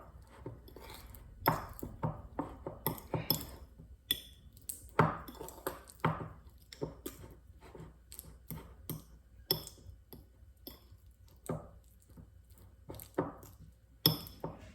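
A fork works through butter in a bowl for an apple crisp topping, making rapid irregular clicks and taps against the bowl. The scraping sounds come in quick bursts with short pauses, close and fairly clear.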